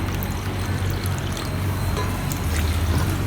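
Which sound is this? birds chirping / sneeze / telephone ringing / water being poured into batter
water being poured into batter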